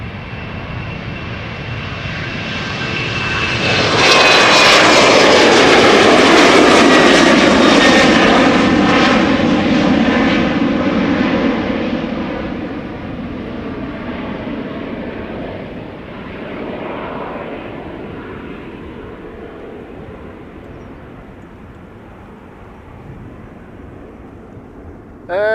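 KLM Embraer 190 jet departing Amsterdam Schiphol Airport: a loud engine roar builds quickly, peaks nearby, then fades slowly into a distant rumble.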